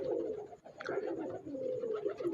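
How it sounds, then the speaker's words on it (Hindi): Blue Shahjahanpuri pigeons coo softly in low, repeated throaty calls, close by, with a brief rustle partway through. "तो ये हैं जी हमारे खुर्दनोक शाहजहानपुरी नीले कबूतर।"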